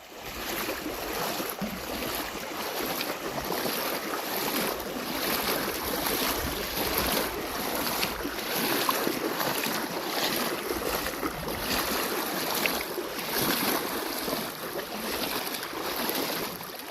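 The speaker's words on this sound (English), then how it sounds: "Here we are crossing the river for the 20th time." Swift river water rushes and splashes steadily as hikers wade across it on a Continental Divide thru-hike along the Gila River. The broadband surging flow is loud and continuous, with no one talking.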